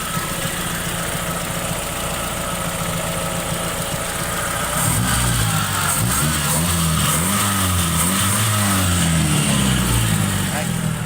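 A Toyota Corolla 4A-F engine idling near 800 RPM, a close, steady mechanical hum that turns fuller and louder partway through, under someone talking.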